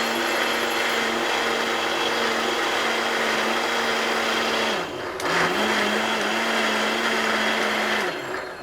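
Electric blender grinding ginger and garlic into paste, a loud steady motor whine that drops away briefly as the switch is cycled off and on, then runs again before slowing at the end.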